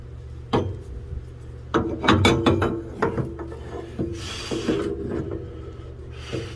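A metal exhaust pipe from an Onan generator on a 2022 Tiffin Allegro RV scrapes and rubs as it is pushed through a small opening: close, uneven grinding and knocking strokes with short pauses between them.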